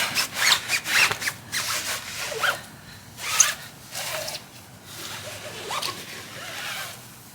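A microfiber towel wipes a car wheel while cleaning off wheel cleaner, giving a series of close, soft rubbing and swishing strokes in irregular bursts with quieter pauses between, and no talking.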